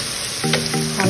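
Green chillies and lati fry together in a pan under a steady hiss, while three short, squeaky, tonal scrapes of a spatula sound close up during the second half.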